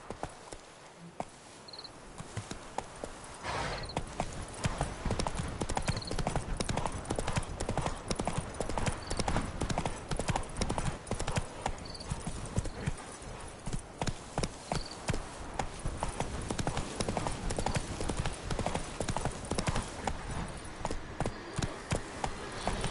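A horse gallops in The Witcher 3 on PS5, a steady, fast clip-clop of hooves that runs almost without a break, fairly close and even, with a faint neigh near the start and a brief word spoken early on.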